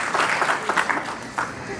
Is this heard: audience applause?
yes